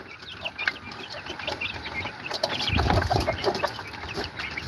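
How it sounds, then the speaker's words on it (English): Bantam and broiler chickens clucking close by, with steady overlapping clucks and chatter over ambient noise that swells midway as the flock stirs. "These are my bantams and broilers."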